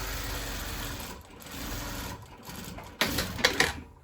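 A sewing machine stitching a homemade fabric face mask, a steady close mechanical whirr in short bursts with brief pauses, ending in a few louder clacks.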